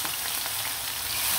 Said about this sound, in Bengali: এখানে কিন্তু আমি আরও বাদ বাকি যে মাংসগুলো আছে দিয়ে দিব, খুব সুন্দরভাবে ভেজে নিব।